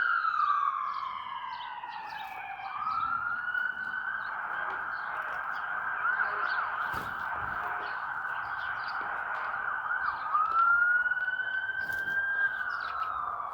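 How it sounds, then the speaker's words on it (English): An emergency vehicle siren wails steadily in the distance on Donlands Avenue, Toronto, rising and falling in long sweeps over street ambience, with faint bird chirps now and then. "sounds like we've got some emergency vehicles rolling through"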